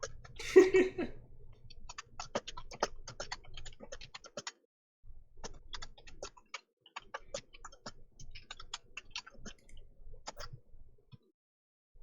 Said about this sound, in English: all I hear is you typing